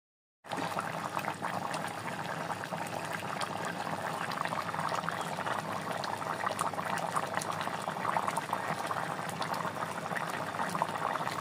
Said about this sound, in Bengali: এরপর ফুটে আসা পর্যন্ত অপেক্ষা করতে হবে